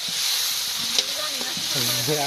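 Fish and onion fritters fry in hot oil with a steady hiss throughout, while voices talk over the sizzle in a village kitchen.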